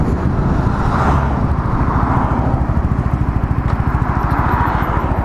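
A Sinnis Outlaw 125 motorcycle rides on a Welsh road, its small engine giving a loud, close, continuous drone with a rapid pulsing beat that holds steady throughout.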